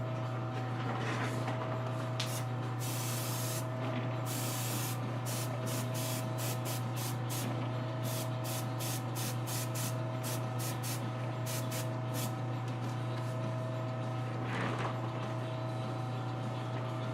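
Airbrush spraying paint during custom figure painting work, a steady hissing spray running through most of the stretch with short pulsed bursts, close and continuous over a constant low background hum.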